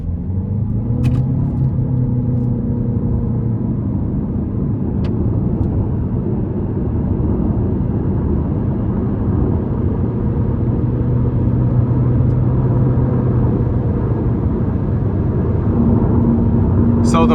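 A 2025 Chevy Malibu LS with a 1.5-liter turbo four pulls hard under acceleration, its steady engine drone and road rumble building from inside the cabin, with a few faint clicks over the continuous low hum.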